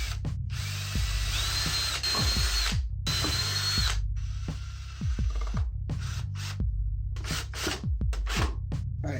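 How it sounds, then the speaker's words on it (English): A power drill drives screws into wood while a box frame is assembled from boards, in repeated bursts of whining motor and gritty bite, with short pauses and knocks between runs, close and loud. "we're just going to drill and screw all this together."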